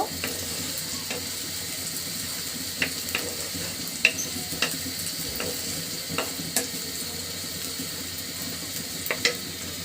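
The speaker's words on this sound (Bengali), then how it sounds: "মশলাগুলো পেঁয়াজের সঙ্গে খুব সুন্দর করে ভাজি করে নিব।" Spices fry with onions in a pan for a Bengali chicken curry, a soft continuous sizzle with light intermittent stirring taps, moderately quiet.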